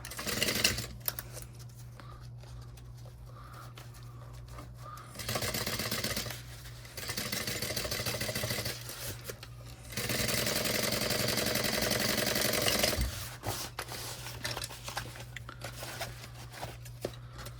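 A sewing machine stitching a messenger bag runs in several bursts of rapid mechanical whirring, pausing between runs for back stitching, close and steady with a low hum underneath.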